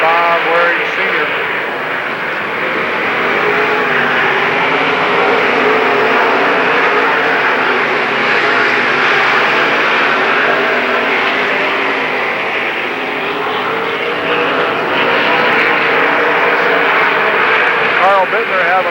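Race cars roar around a speedway in a continuous, loud engine drone with rising and falling pitch sweeps as cars pass, a commentator talking over it.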